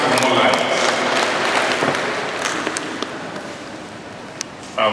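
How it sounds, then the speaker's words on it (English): An audience at an agricultural development gathering in Umuahia, Abia State, claps hands, with the applause loudest at first and gradually thinning out, a few sharper isolated claps near the end. "Can we clap our hands for more life?"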